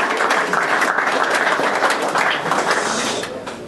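A crowd at a rugby season launch gives a round of applause, a steady, fairly loud spread of many hands clapping that tapers off toward the end.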